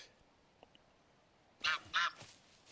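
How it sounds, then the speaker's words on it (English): Canada geese give two loud, close honks in quick succession after a quiet outdoor stretch, with a faint softer call trailing after. "Canadian geese, man."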